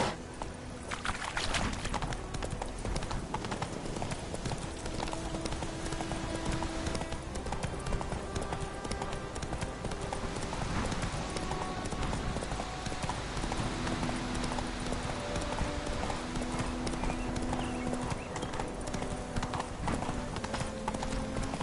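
Hooves of a horse galloping in The Witcher 3 video game keep up a quick, steady clip-clop, joined by soft ambient game sounds at a low level.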